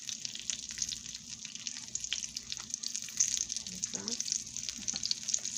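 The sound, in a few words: southern fried sweet potato pies sizzling in frying oil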